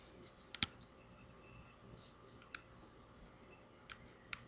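A computer mouse gives a few quiet, sharp clicks, spaced irregularly over a few seconds against faint room hiss.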